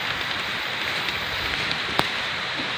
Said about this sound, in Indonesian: Nah, hujannya kayaknya gede nih.